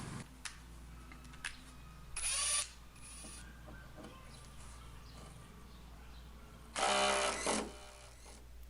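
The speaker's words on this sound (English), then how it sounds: "So I come back again with my number 3 size Phillips head." A number 3 Phillips screwdriver working a stubborn door screw on a Suzuki Samurai, with soft ratcheting clicks and two louder grinding bursts of the screw turning, close and without talk.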